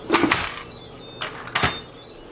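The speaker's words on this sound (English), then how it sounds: "And I will get the lid on there." Lid goes onto an Instant Pot of chicken vegetable soup: a pair of quick metallic clacks and scrapes, a pause, then two more clunks as it settles and locks, close and distinct.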